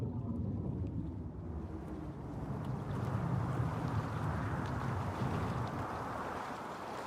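Steady broadband wind rushing over open sea as a ship is driven along in an animated film, a continuous loud roar with low rumble, no voices.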